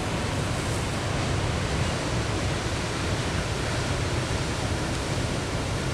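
Big ocean waves breaking on the shore at Yachats, a continuous roaring rush of surf filling the whole stretch with broadband noise, with no voices.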